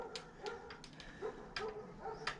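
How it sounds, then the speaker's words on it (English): A dog barks repeatedly in the distance, with several faint, short barks scattered through a quiet indoor garage setting during work on a 2008 Sportster 883C. "My dog is going nuts for something again."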